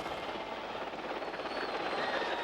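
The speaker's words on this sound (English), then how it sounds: "A helicopter provided by the Egyptian government carried Yasser Arafat to his meeting with Palestinians living in the West Bank" Helicopter supplied by the Egyptian government carrying Yasser Arafat toward the West Bank, a steady, continuous rotor and engine roar holding at an even loudness throughout with no voices.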